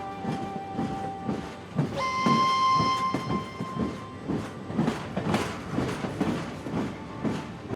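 The Darjeeling toy train rolls past at Ghum station with a steady clickety-clack of wheels, broken by one long, loud horn blast near the start.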